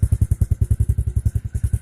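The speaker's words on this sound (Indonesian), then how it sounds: "ini dia guys hasil dari pemasangan knalpot tadi" A Honda Supra X 125 FI motorcycle with a Tsugi aftermarket exhaust idles close by, a rapid, even string of deep exhaust pulses.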